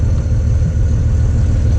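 A boat's engine drones steadily while motor sailing on calm water, a loud, continuous low rumble with no breaks.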